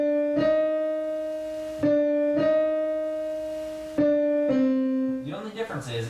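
Piano playing the Shin Gojira theme, with repeated two-note phrases struck in a steady slow rhythm, sustained between hits, and a busier cluster of notes at the end.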